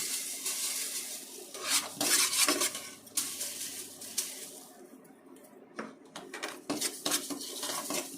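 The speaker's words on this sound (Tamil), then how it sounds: "தாளிக்கிறதுக்கு கடுகு வறுத்துக்கலாம்." Mustard seeds roasting in a pan for tempering mango pickle, with clinks and scrapes of a utensil against metal, irregular stirring clatter, close and moderately loud, no talking.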